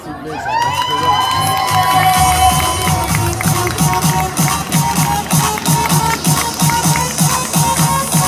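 An audience at a Miss Pin-Up vintage beauty pageant cheers and applauds a contestant, with loud crowd shouts and whoops over steady rhythmic clapping and stomping that carries on throughout.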